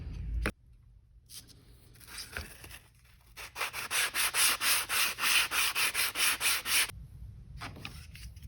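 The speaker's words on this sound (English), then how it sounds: "the best way to do this is just using sandpaper and" Airsoft MP5 magazine rubbed with sandpaper in a quick series of about a dozen rhythmic, scratchy back-and-forth strokes, close and fairly loud, after a few softer scrapes.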